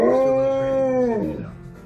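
An Alaskan Malamute howls in a long, wavering tone, close and loud, sliding downward toward the end and fading out over about two seconds.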